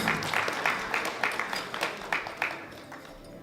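Scattered, moderately faint clapping from an audience at a powerlifting competition, with individual claps standing out in a loose, uneven rhythm.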